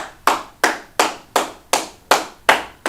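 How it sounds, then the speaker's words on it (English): A class claps hands in a steady rhythm, eight sharp claps evenly spaced and close, with no talking over them. "So let's clap it up in class, okay?"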